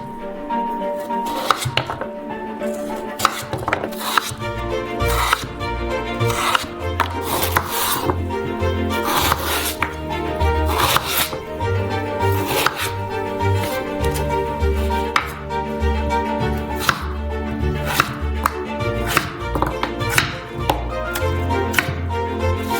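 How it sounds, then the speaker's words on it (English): A knife chopping potatoes into medium cubes for fries on a board, with rapid, rhythmic, close-up cuts repeating throughout over a continuous musical background. "Then cut them into medium-sized cubes."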